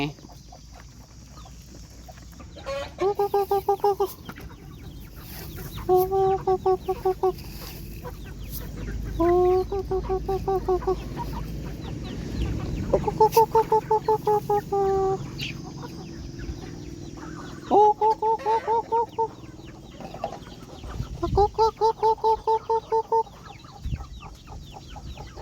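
Chickens cluck in repeated bursts of rapid, nasal calls, close by, with pauses between phrases and soft background noise.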